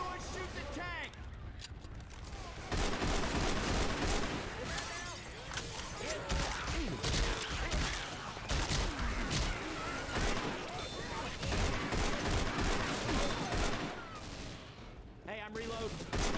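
Sustained gunfire aimed at the Tank in Left 4 Dead 2, dense overlapping shots and bursts from several weapons, loud and continuous, with shouting voices mixed in.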